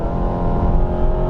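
Honda Jazz/Fit 2015 with a CVT gearbox revving steadily, a sustained droning engine note that holds at a constant pitch like a slipping clutch, close and loud throughout.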